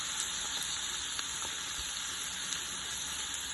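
Tomatoes, spring onion and cilantro sizzle quietly in a pan, a soft continuous frying hiss with faint crackles, steady and alone.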